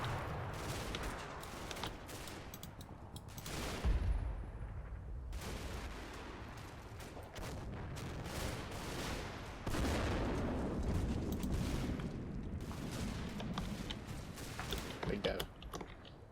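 Distant battlefield gunfire in the Normandy wargame Combat Mission: Battle for Normandy, scattered shots and bursts rattling continuously at a low level beneath a voice.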